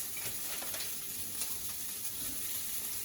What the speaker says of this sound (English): Once we place the sausages in the cast iron frying pan